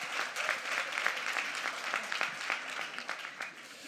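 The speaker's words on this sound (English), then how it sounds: "Give him a round of applause." Audience applause at a tech conference talk, a dense, steady wash of many hands clapping throughout, fairly close and sustained without any talk.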